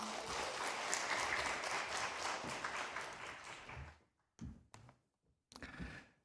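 Warm audience applause welcoming a pastor at a church vision seminar, full and continuous for about four seconds, then fading into a few scattered claps and brief bursts.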